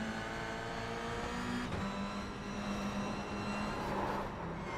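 Onboard engine of a Toyota GR86 race car in the iRacing sim, a steady loud droning tone that shifts pitch slightly as the car drives on, with no talk over it.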